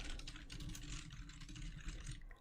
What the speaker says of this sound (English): Some typing ASMR sounds on my keyboard over here.